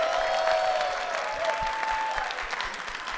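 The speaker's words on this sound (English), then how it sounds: "Round of applause for Sjokz, everyone." An audience applauds for Sjokz at a live show in Atlanta, a steady moderate clatter of clapping from a crowd that gradually thins out.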